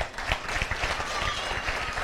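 An audience at a Tamil speech event breaks into sustained applause, with many hands clapping steadily throughout and no voice on top.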